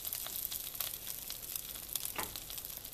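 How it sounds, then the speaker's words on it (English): Egg-soaked banana bread slices sizzle and crackle steadily in a hot pan as French toast, a close, continuous frying hiss with no voices. "Hear it sizzle."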